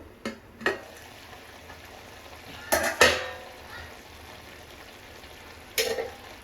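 Paneer curry gravy in a pan being stirred, a low bubbling simmer broken by a few sharp scrapes and clatters of the spoon near the start, around three seconds and near the end.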